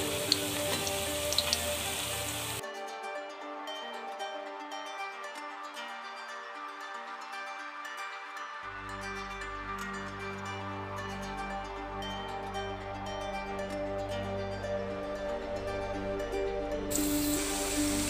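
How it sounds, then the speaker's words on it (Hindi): Bottle gourd kofta fry in hot oil, giving a close, steady, crackling sizzle with fine popping that runs continuously, with no voices over it. "इसी तरह सारे पकौड़े तल के निकाल लेंगे।"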